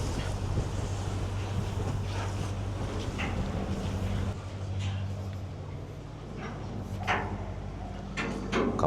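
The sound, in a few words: wind blowing over the sea on a boat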